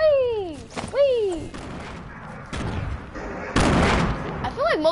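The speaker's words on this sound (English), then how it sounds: "I feel like most of my grenades are exploding in air and not on the ground" PS4 video game combat sounds of grenade explosions and bursts of gunfire, fairly quiet, with a tonal, whooping voice sliding over them at the start and end.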